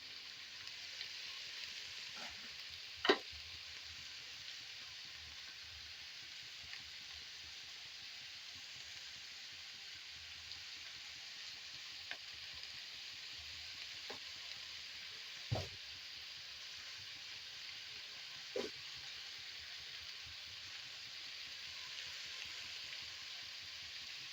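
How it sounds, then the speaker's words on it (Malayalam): Vegetables for egg fried rice frying in a pan, heard as a soft, steady sizzle with a few sharp clicks and taps as they are stirred. "നല്ലപോലെ ഇളക്കി കൊടുക്കുക"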